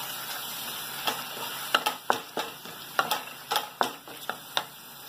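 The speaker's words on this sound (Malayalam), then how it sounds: "ഇളക്കിയെടുക്കുക." Rajma masala frying in a pan, stirred with a utensil: a low, steady sizzle under a string of sharp scrapes and taps against the pan, close and moderately loud, with no voices.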